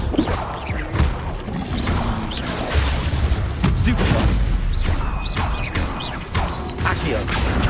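Spell blasts from Bombarda and Confringo in Hogwarts Legacy, with repeated booming crashes and whooshes over dense game music and ambience, heavy low-end impacts recurring throughout.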